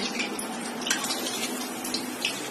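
One cup of water pours steadily and fairly loudly into a pan of paneer curry with whole cinnamon, a continuous splashing stream with slight shifts in tone.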